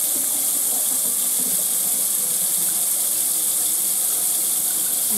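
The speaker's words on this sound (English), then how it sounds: "I'm actually going to start running hot water." Hot water runs from a kitchen faucet into a plugged sink with a little dish soap, a steady loud hissing gush that continues without break.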